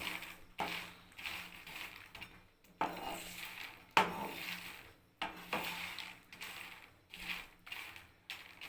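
Peanuts slowly roasting in a pan for jaggery gachak, stirred in repeated rhythmic scraping and rattling strokes, close and fairly quiet, with no talking.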